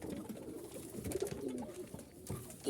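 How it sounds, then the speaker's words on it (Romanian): Soft, low cooing of pigeons repeating in a steady murmur, close by, with faint rustling and background noise throughout. "Porumbei frumoși."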